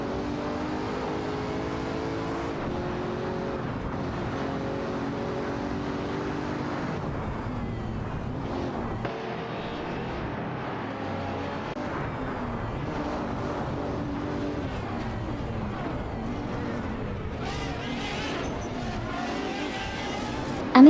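Race car engines from a racing video game with a Pagani Huayra BC and a Ferrari Monza SP1, a continuous droning engine tone that shifts pitch as cars accelerate and change gear, with no voices.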